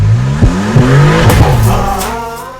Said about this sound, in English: The Maserati developed, designed, and built Nettuno engine is a 621 horsepower, that's 630 CV V6